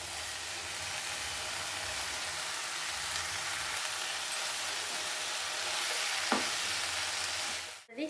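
Garlic cloves and chopped chukka kura greens sizzle steadily in a hot pan, a dense continuous frying hiss that holds for about eight seconds before a brief clatter at the end.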